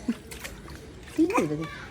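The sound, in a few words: child splashing water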